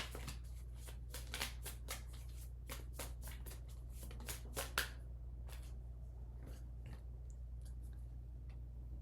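Fortune cards shuffled and pulled by hand, a rapid run of crisp riffling snaps and flicks for about five seconds over a steady low electrical hum, then quieter handling.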